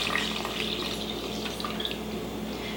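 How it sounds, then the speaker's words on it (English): Filtered water poured over bones in an Instant Pot, a steady close rush and splash of liquid filling the pot at moderate volume, with no one speaking. "You want them to be completely covered with water."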